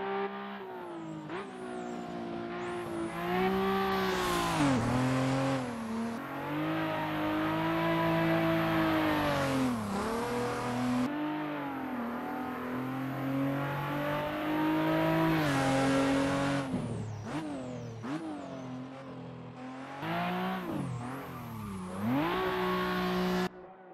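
A Toyota Supra on drift tyres drifting in the Assetto Corsa racing game at Mugello, its engine revving hard and rising and falling continuously with tyre squeal, loud and close throughout.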